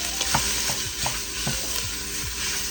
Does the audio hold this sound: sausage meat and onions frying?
yes